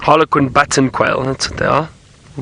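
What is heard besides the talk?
None of the usual background noises is heard.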